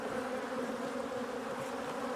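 Honey bees buzz around a hive during a colony split, a dense steady droning hum with no pauses or voices.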